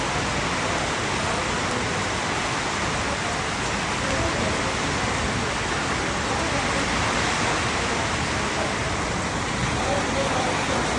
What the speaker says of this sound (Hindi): दानी भाई कह रहे हैं अभी बारिश हो रही है